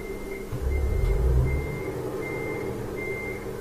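A game truck in Euro Truck Simulator 2 rumbles low at idle, swelling briefly as it tries to restart, while a steady reversing beep repeats at regular intervals throughout.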